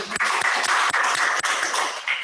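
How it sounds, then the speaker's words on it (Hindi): An audience claps at a talk about an ISKCON temple's free food drive, a steady broadband patter of many hands with a few sharper claps, fairly close and continuous for a couple of seconds. "एक बार तालियां"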